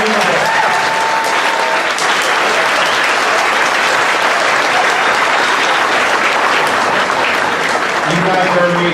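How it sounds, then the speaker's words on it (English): A banquet crowd gives a sustained, loud round of applause for culinary students who cooked the meal, dense clapping filling the room with some voices and cheers mixed in. "We asked the culinary students who worked so hard on this meal to come out so we can give them a round of applause and a thank you."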